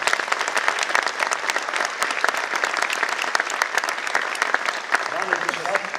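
A concert audience at a cultural event with a military orchestra claps loudly and densely for performers, a thick continuous roar of hands lasting the full six seconds.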